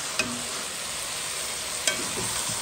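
Jackfruit curry with smoked pork sizzles steadily in a pan, with two faint taps of a stirring utensil; the frying is close and constant, with no talk.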